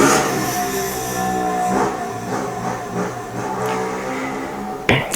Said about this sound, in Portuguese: Esperar a moto passar.